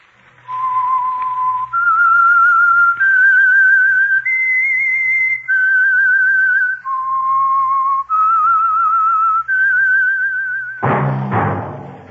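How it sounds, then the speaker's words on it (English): A lone whistled melody, the theme of the radio show The Whistler, rises and falls in steady sustained notes over about ten seconds, close and clear, ending as an orchestral chord swells in. "That whistle is your signal, the Whistler."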